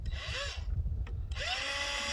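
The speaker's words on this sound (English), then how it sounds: "I'm going to drill 2 holes" A power drill bores holes into the side of a plastic bucket near its bottom, whining up in two bursts with a short pause between, loud and close with no talking.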